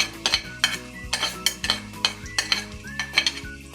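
Onion and garlic sautéing in hot oil, with rhythmic spatula strokes scraping and clinking against the pan over a faint sizzle and a low steady hum; no one speaks.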